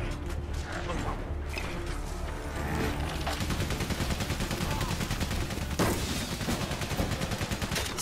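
Rapid machine gun fire rattles in dense, continuous bursts in the World War I video game Valiant Hearts, loud and close, with clattering impacts mixed in.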